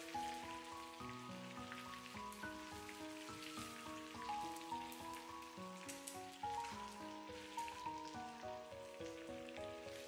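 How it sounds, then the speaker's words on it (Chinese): Tofu deep-frying a second time in hot oil to crisp the skin gives a steady, dense sizzle that runs the whole time beneath louder music. "复炸一遍不仅可以把豆腐中的油给逼出来，而且外皮也会更加的金黄酥脆"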